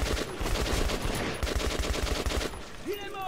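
Rapid automatic gunfire in the video game Metro Last Light, a dense run of loud repeated shots for most of the stretch, easing off near the end with a brief whooshing tone.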